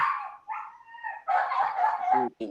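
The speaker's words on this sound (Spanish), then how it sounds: "tengo una jauría de perros afuera" A pack of dogs barking outdoors: a series of loud, close, tonal barks and yelps that overlap in uneven bursts, with a short gap near the end before one more outburst.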